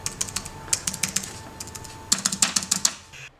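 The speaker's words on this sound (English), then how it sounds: "the keys themselves are very nicely built, they have a nice response to them, and they emit that cool little clicky sound that you can get in high quality keyboards" Crisp clicky keys of a Logitech tablet keyboard for iPad being typed on in quick bursts, a pause, then another fast run of sharp close keystrokes, with no voices.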